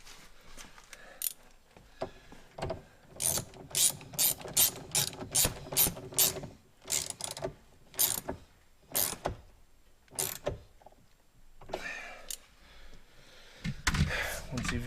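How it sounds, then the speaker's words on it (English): A 10mm ratchet wrench tightening a bolt on a Chevy Malibu Maxx, producing rapid bursts of crisp clicking pawl ratchets in a quick uneven rhythm, close up, with brief pauses between strokes. "take your 10mm, tighten it up, make sure it's"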